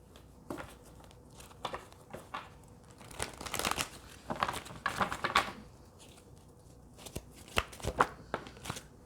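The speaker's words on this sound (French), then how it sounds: "Je vais un petit peu monter les cartes pour que vous puissiez voir les autres." Tarot cards are handled and spread on a table in quick bursts of soft papery slaps, shuffles and riffles, close and fairly quiet, with brief pauses between handlings and no talking.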